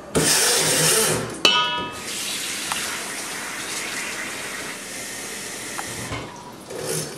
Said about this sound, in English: Then you fill this with cold water.